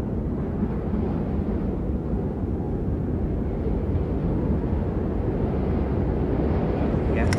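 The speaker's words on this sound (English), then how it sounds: "It's quite windy." Loud, rumbling wind buffets the microphone continuously on a cold hilltop at an Iron Age fort in Hampshire, a low roaring rush with no other distinct sounds.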